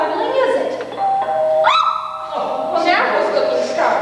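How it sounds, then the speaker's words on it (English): A doorbell rings twice in a sitcom setting, two bright chiming tones rising out of background voices, with a small dog yipping and whimpering around the rings as people talk over it. "What is there about that doorbell? Every time it rings, you lose it like that."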